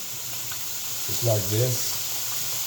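Fish sauce sizzles in a pan with pork cubes, a soft steady frying hiss running under a man's brief speech at close range.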